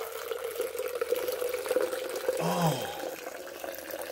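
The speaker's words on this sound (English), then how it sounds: "Commencing water!" Water pours from a tap into a pre-workout shaker bottle, a short rising fill lasting about a second, with a voice exclaiming briefly over it.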